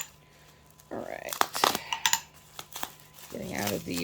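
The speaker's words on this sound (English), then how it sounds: "Getting out of the bubble wrap." Bubble wrap from a glass order being unwrapped in a cold garage: close, uneven crinkling and crackling in short bursts under a faint steady hum, with a voice talking briefly near the end.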